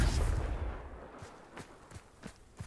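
A Confringo fire spell blasting in Hogwarts Legacy, beginning with a heavy booming burst that fades into a string of sharper, spaced impact cracks.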